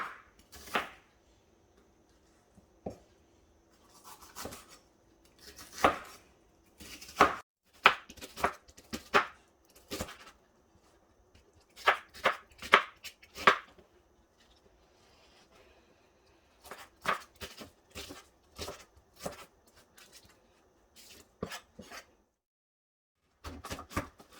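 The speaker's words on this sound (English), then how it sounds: "once you got your onions nice and chopped" A knife chops onions on a board in uneven runs of quick, crisp taps separated by pauses, close and fairly quiet, with no talking.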